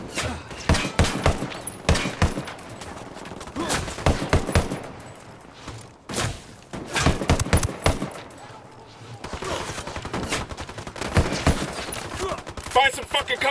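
Gunfire in the tactical shooter Ghost Recon Wildlands: loud, rapid bursts of automatic rifle fire overlap with single sharp shots, broken by brief pauses, then a denser rattling exchange near the end.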